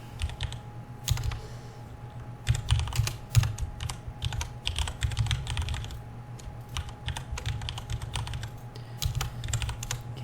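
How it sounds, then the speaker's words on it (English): Fingers type on a computer keyboard in bursts of quick, close clicks and key taps with short pauses, steady and fairly quiet over a low hum, with no talking. "Can't type today."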